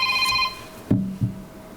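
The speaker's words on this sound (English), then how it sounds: "I forgot to turn my phone off." A mobile phone rings briefly indoors during a community conversation event, a short tonal ring followed by a couple of soft thumps, fairly quiet.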